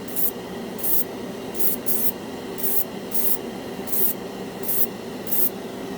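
Short hissing bursts of blue paint from a cheap airbrush repeat in a steady rhythm, about ten quick puffs over a low background hum, close and clear.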